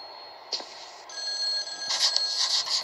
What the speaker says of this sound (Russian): Нужно было перед сном выключить этот чертов телефон.